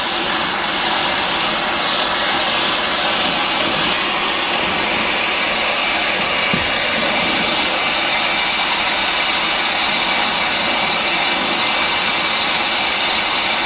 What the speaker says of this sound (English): We'll fire up the torch and see how we do here. I got the rosebud tip on here.